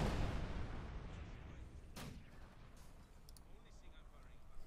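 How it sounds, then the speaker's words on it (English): Mortar bombardment in Company of Heroes 2, a booming blast at the start that trails off, then another sharp explosion midway and fainter distant impacts, with a commentator talking throughout. "the mortar bombarding. Blasting away."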